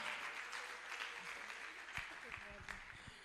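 Audience applause at an entrepreneurship empowerment forum, a steady wash of clapping from a crowd, fairly faint and distant, with a few voices and thumps mixed in.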